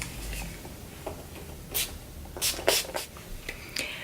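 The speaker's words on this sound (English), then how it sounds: "I'm gonna take my, what is this? All-nighter setting spray" Several short, close hissing spritzes of All-Nighter makeup setting spray come in quick irregular bursts, with quiet handling noise between them.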